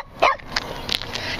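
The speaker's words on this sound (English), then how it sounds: "I just bark all the time." A puppy gives a short yip or bark up close, followed by faint scuffling noises.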